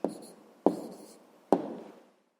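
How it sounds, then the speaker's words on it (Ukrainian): Three scratchy strokes of a pen on paper as an answer is written out by hand for a sixth-grade maths exercise, each stroke starting sharply and trailing off, close and fairly quiet. "Записуємо відповідь."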